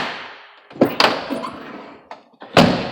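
A rear quarter vehicle door with re-drilled hinge pin holes makes a loud grinding creak as it opens, followed by several heavy thunks and clanks, one sharp final bang, and no talking.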